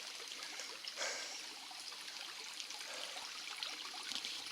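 A small stream trickles along a Missouri hiking trail, a faint, steady hiss of running water with soft splashy bursts and no talking.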